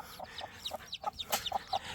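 Chicks peep in quick, high, falling chirps, about a dozen in two seconds, close by and overlapping a little.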